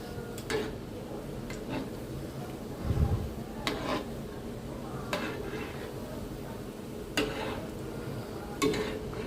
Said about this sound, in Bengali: এই তো এখন হচ্ছে আমি কাবাবগুলি ভেজে নিচ্ছি